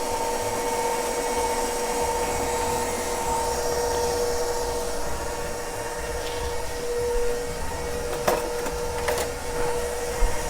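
A stand mixer runs on speed 2, mixing dough for sweet rolls, a steady whirring motor hum throughout with a few brief knocks and clatters near the end.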